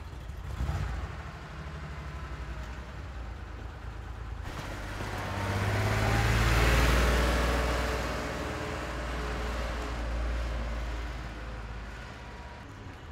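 An old vintage car's engine runs at an industrial yard, a low rumbling idle that swells louder around the middle as it passes close by, then settles into a steady mid-level drone with no voices.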